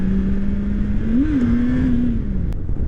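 A motorcycle engine held at a steady drone, then revving up briefly and settling back as the bike lifts into a tiny wheelie, loud and close over wind rush.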